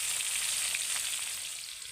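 Prawns fry in a pan with a steady, close hiss and crackle of hot oil, continuous and unbroken with no voices.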